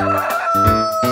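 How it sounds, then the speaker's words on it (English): A short, loud rooster crow in a children's farm-animal song, heard alone at close range. "Rooster."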